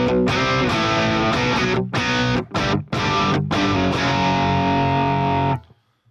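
An electric guitar played through high-gain distortion at a gear livestream plays thick, saturated chords and riffs with brief choppy gaps, loud and alone, ending with a quick cutoff.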